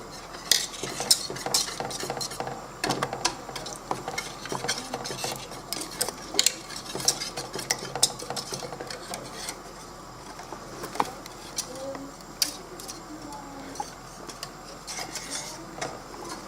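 Lemon tart cream is stirred in a pot with a thermometer in it, making soft continuous scraping and rubbing with light clinks of utensil against metal, close and quiet, with no voices.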